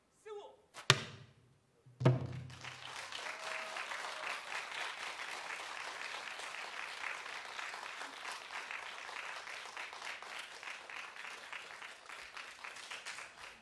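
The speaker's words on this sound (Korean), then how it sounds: "다시 한번 큰 박수 부탁드립니다" An audience applauds after a pansori performance, following a couple of sharp thumps; the clapping is steady and sustained, moderately loud in an indoor concert hall.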